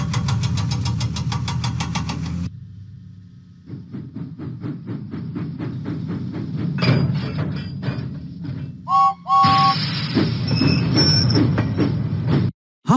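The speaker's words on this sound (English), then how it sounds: "Huffing and puffing, James set out for Farmer McCall's farm" Steam locomotive engine chugging in a Thomas and Friends railway video game, a rhythmic close puffing that pauses briefly, then resumes with rolling wheels, a short whistle-like squeal and steady rumbling.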